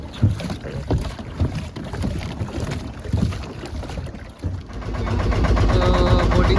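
Boat ride on the lake at Konar Dam, Hazaribag, Jharkhand, with wind buffeting the microphone and water lapping against the hull, plus a faint engine hum that grows steadier and louder toward the end.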